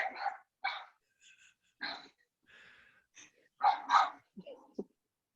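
A nearby dog gives scattered short barks and yips with quiet gaps, ending in a softer whimpering sound.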